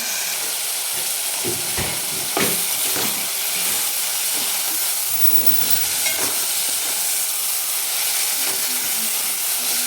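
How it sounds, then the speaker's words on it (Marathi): Fenugreek leaves and spinach sautéing in hot oil, a steady loud sizzle with scattered clicks and stirring clatters throughout. "दोन मिनिट तेलामध्ये परतून घ्यायची यानंतर मेथीची भाजी टाकून घेऊ"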